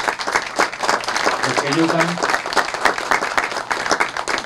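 Audience applause for congressmen at a Colombian government water-project event, steady crowd clapping running throughout, mixed with someone speaking over it.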